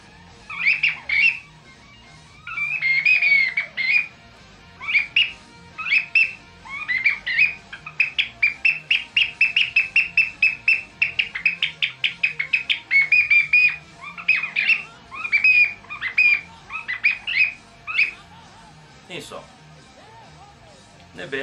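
A homemade chioccolo bird-call whistle, made from two plastic caps glued together, is blown in rapid bursts of shrill squawking chirps with brief pauses between them. It sounds close and loud, and the chirps imitate a bird call.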